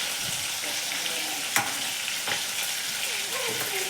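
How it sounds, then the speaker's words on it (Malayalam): Chicken frying in a pan with a steady loud sizzle, stirred now and then with faint scraping clinks of a spatula, no talk. "ചിക്കൻ വറുക്കുകയും ചെയ്യാം"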